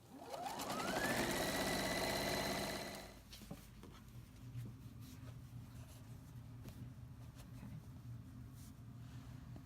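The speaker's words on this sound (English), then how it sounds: "And you just sew the whole border on." A sewing machine stitches a quilt border seam. Its motor runs fast and loud for about three seconds, then stops, leaving a quiet low hum and faint rustling.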